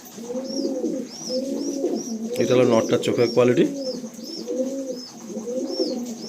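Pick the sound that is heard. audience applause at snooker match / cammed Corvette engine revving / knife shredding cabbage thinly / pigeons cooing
pigeons cooing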